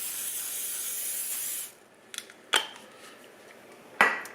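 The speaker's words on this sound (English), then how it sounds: "I'm going to spray this with some cooking spray." Cooking spray hisses steadily onto a brownie pan for under two seconds, then stops, followed by a few light clinks of the metal pan being handled.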